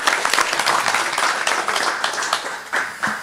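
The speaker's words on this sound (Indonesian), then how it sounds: "Tepuk tangan untuk Mas Dipa ya." An audience at a talk gives a round of applause, with dense clapping in which individual sharp claps stand out near the end as it thins.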